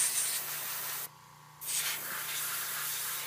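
An airbrush sprays paint onto a Hive Tyrant miniature, a steady close hiss that cuts out briefly for about half a second before resuming.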